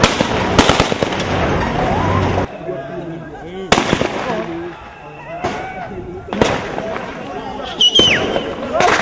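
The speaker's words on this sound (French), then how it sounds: "Les policiers à leur tour se sont mis à tirer à l'aide des fusils kalachnikov." Police fire Kalashnikov rifles during a clash with prison detainees in Bujumbura: several loud, sharp cracks come in separate bursts, with a voice talking over them throughout.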